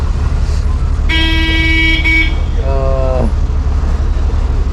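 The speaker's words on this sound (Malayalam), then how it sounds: "പുറകിലൊരു വണ്ടി വേളം വെക്കുന്നുണ്ട്" A car horn honks behind a moving KSRTC bus: two clear blasts, the first longer, over the bus's constant loud engine and road rumble.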